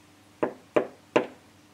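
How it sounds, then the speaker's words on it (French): Three firm knocks on a door, evenly spaced and close, each a sharp hollow rap with a short decay, alone against a quiet room background. "la petite fille frappe à la porte"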